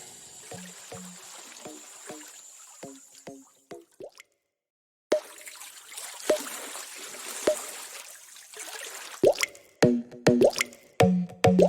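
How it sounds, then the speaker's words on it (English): Water drips and plops into a pan in irregular bursts, with a brief trickling splash midway and a short quiet gap. "all you need to do is add some water"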